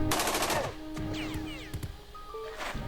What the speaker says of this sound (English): Okay, auto fire, I think.